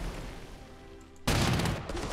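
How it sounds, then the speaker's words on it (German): Tank and artillery fire in the strategy game Panzer Corps 2 erupts as a sudden loud, rumbling burst of explosive shots over a low battle drone. "Wir knallen jetzt mit allem drauf, was wir haben."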